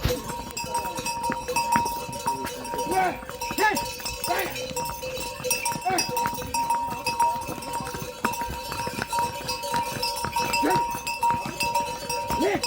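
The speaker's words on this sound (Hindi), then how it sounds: "वापसी लौट रहे हैं कुछ घोड़े खच्चर" Horses and mules clip-clop steadily along a mountain trail near Govind Dham and Ghangriya, returning after carrying ration supplies, with hooves sounding near and continuous and background voices present.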